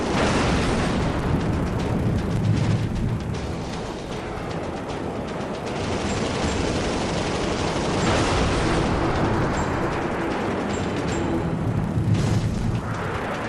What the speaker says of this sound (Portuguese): O MiG é abatido com uma rajada curta.